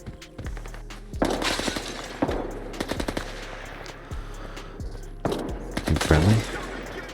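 Gunfire rattles inside a facility in the video game S.T.A.L.K.E.R. 2: sharp single shots and rapid bursts crack out in irregular volleys, loud and reverberant, with short gaps between them.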